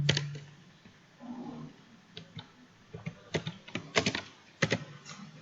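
Keys clatter on a computer keyboard in irregular bursts of close, crisp clicks, speeding up into quick runs of typing while someone works through Python code.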